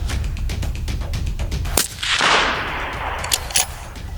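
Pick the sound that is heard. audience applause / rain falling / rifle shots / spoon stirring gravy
rifle shots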